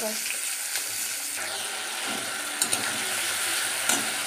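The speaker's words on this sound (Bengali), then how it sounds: "এই যে মশলাটা কষাচ্ছি চিংড়ি মাছের" Spice paste for a prawn curry fries in a pan with a continuous close sizzle and occasional sharp clicks of a spoon stirring and scraping.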